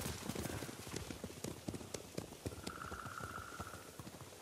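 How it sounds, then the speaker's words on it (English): Several samurai horses gallop off in the video game Ghost of Tsushima, their rapid hoofbeats clattering close and busy, with a brief whinny-like tone partway through. "Bastards scared off the horses."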